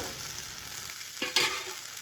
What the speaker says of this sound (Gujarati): એક સાઈડે આપણું થઈ ગયું છે હાંડવો. તો આપણે શેકીશું બીજા સાઈડથી.